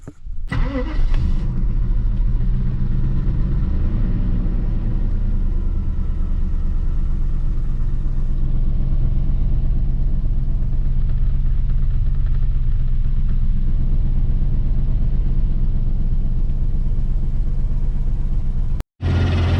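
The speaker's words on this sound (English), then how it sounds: "then we'll go ahead and start the car up for you guys" A Mercedes W140 engine cranks briefly, catches and settles into a steady, close idle with a deep even rumble and a secondary air pump running, continuing unbroken until a sudden short cut near the end.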